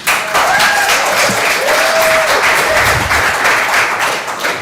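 Residents at a council meeting break into loud, sustained applause, a dense wash of clapping hands that fills the room for several seconds before tapering slightly at the end, with a few raised voices and whistles mixed in.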